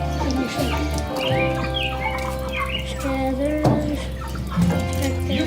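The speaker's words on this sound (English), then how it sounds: "Take the chicken out of the sun." Chickens about six to eight weeks old cluck and call on a farm during processing, several birds close by in steady chatter, with some water-like noise and a voice in the background.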